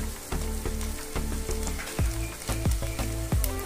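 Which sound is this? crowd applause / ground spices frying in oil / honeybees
ground spices frying in oil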